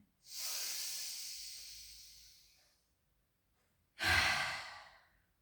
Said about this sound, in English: take a massive, as big a belly breath as you can on an inhale